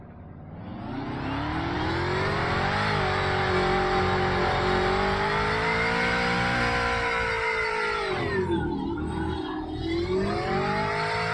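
A loud car engine in the video game DayZ hums and whines steadily, its pitch rising and dipping as it revs and shifts, close and continuous with no talking.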